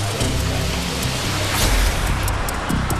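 Heavy rain from a thunderstorm falls in a dense, even hiss, steady throughout, with occasional deeper rumbles underneath and no voices.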